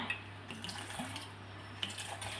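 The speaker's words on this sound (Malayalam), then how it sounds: "അപ്പം കുറച്ച് തണുത്ത വെള്ളം ഒഴിച്ച് കൊടുത്ത്" Cold water pours steadily into a container of mango juice nearby, a soft continuous trickle with faint splashes and a low background hum.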